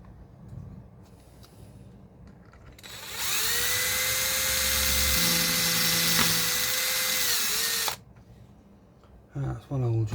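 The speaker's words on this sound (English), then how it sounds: "That's one hole drilled." A small power drill bores a hole into a Scalextric Range Rover model car, giving a close, steady high whine for about five seconds that starts and stops abruptly, with quiet handling sounds on either side.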